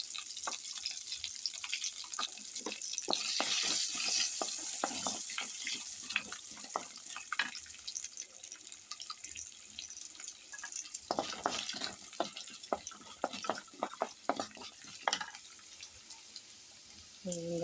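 Steady hot-oil sizzling and crackling as cumin and fennel seeds temper in oil, with occasional sharp pops, near and fairly loud, with no talking.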